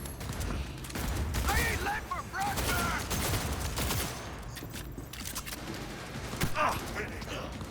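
Rapid bursts of gunfire ring out in the video game Cyberpunk 2077, clustered volleys and scattered shots at moderate loudness, mixed with game voices and effects.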